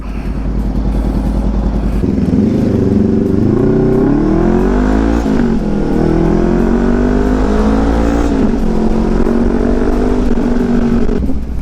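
A Honda CB500X motorcycle with a new aftermarket exhaust revs loudly with a deep, throaty sound, its pitch rising and falling through several throttle blips over a steady idle rumble.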